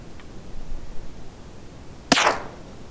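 A single sharp crack from a Ruger Precision .22 rifle firing old hunting ammunition outdoors, loud and close, followed by a brief ringing decay above quiet background.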